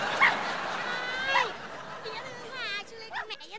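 Small pet dog yipping and whimpering excitedly at a person arriving home, short high bursts near the start and middle, with people talking over and after it indoors.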